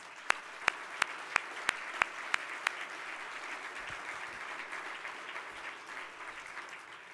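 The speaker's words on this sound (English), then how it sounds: "they deserve a great round of applause" An audience at an awards ceremony applauds, a steady wash of clapping with several sharp, louder claps standing out near the start before settling into even applause.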